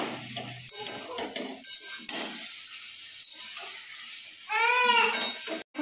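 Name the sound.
chicken cooking in a pan, stirring and sizzling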